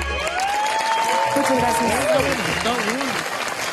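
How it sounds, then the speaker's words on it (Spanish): A TV show audience applauds a singer's cover performance with a dense, steady roar of clapping, while someone speaks briefly over it. "me tuve que volver a poner de pie, pero esta vez para aplaudirte porque lo hiciste"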